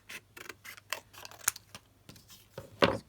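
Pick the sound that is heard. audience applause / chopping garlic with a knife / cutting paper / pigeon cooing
cutting paper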